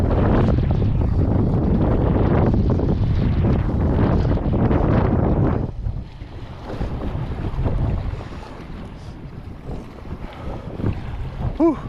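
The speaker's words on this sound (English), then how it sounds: "Seems like the wind's picking up even more." Strong, cold wind on a causeway buffets the microphone with loud gusting roar for the first half, then eases into weaker, uneven gusts with rainy, wavy ambience behind.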